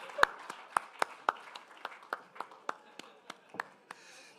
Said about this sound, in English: A round of applause for them all together.